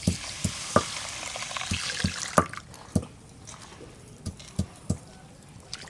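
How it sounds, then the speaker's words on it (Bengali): Vegetables for khichuri hiss and crackle in hot oil, loud at first then settling down, with sharp utensil taps at irregular intervals. "খিচুড়ির সবজি ভাজার জন্য তেল দিয়ে দেব"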